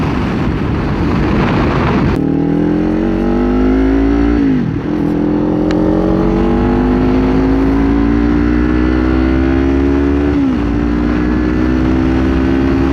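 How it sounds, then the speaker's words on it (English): A 2024 Kawasaki Ninja 500 motorcycle ridden at speed, its deep engine loud and close, rising steadily through the gears with brief dips at each shift, over constant wind rush and no talking. "You know how deep this bike sounds?"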